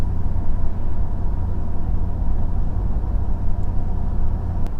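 A deep, steady engine drone with a low rumbling exhaust from a 6.7 Powerstroke diesel pickup with a race pipe, holding an even pitch cruising in 6th gear around 55.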